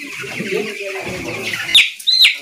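Chickens cluck close by on a farm while being given a Gumboro disease vaccine mixed into water, with a few short squawks near the end over faint background voices.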